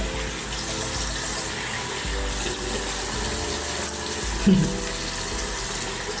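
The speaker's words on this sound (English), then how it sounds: "I gotta dig into the sink, and I use my hands to rinse my face" Tap water runs steadily into a bathroom sink as hands scoop and splash it onto a face during a morning skincare routine, a continuous close rush with a brief louder splash near the end and no talking.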